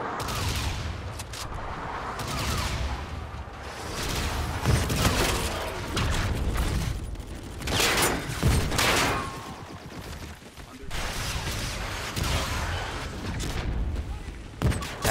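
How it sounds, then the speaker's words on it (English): Explosions and heavy gunfire from an enemy Trinity rocket strike in Call of Duty: Infinite Warfare multiplayer crash and rumble almost without pause, with loud bursts stacked over dense battle noise and some talk mixed in. "Enemy Trinity rocket!"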